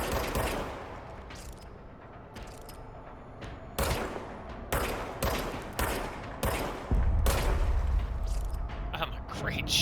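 Gunfire in the video game Control, repeated sharp shots in irregular bursts over a game soundscape, with someone talking over it.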